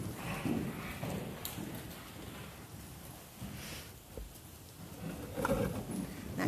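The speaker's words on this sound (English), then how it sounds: "She's going to pick up a canter, which is the 3rd beat in a horse's 4-beat gaits." A horse's hooves thud in a loose rhythmic clip-clop as it picks up a canter in an outdoor riding session, moderately near over a grainy, rain-like background hiss.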